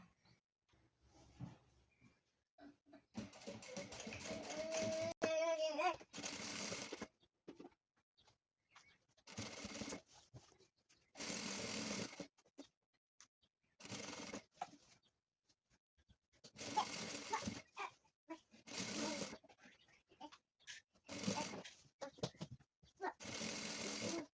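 Domestic sewing machine stitching around the edge of a shopper bag in several separate runs of steady whirring, each a few seconds long, with short quiet pauses between them.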